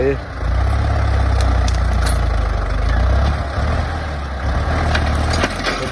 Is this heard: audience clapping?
no